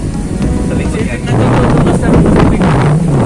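Strong wind by the Pacific Ocean buffets the microphone in a steady, loud roar, with a low rumble underneath and no clear talk.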